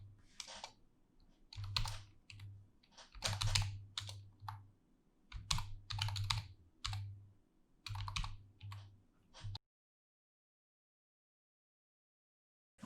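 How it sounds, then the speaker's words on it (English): Typing on a computer keyboard during a Laravel Livewire coding session: close, rapid clusters of key clicks in uneven bursts with short pauses, ending in several seconds of silence. "so let's start to type in something"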